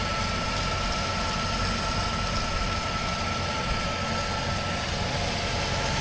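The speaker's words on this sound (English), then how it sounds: "Nice V8 engine." The V8 engine of a 1996 Chevy StarCraft van idles in a steady, low, even rumble that stays constant throughout, close and without talking.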